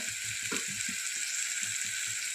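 Spices fry in hot oil with a pinch of asafoetida while black masala is being made for spicy misal, giving a steady close sizzle with soft stirring knocks through it.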